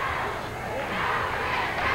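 Crowd at a professional wrestling match shouting and cheering in a steady, dense roar of many voices, filling a large arena.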